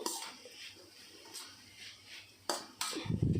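A spoon scrapes and clinks against a cooking pan as fresh coconut fry is stirred, giving faint, scattered metallic taps over a soft sizzle, close by and without talk.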